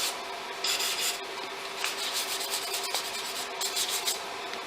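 Sandpaper is rubbed by hand over the corners of a wooden valet tray, producing repeated scratchy back-and-forth strokes, close and fairly quiet, with no voices.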